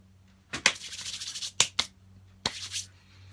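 Sandpaper is rubbed by hand over a wooden cigar box guitar, giving a few short, close rasping strokes separated by brief pauses.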